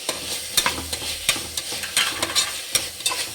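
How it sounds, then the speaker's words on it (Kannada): Coriander and mint leaves fry in hot oil with a steady crackling sizzle, broken by sharp scraping clicks of stirring at irregular intervals, close and moderately loud. "ಚೆನ್ನಾಗಿ ಫ್ರೈ ಮಾಡಿ ಎಣ್ಣೆಯಲ್ಲಿ ಫ್ರೈ ಮಾಡಬೇಕು"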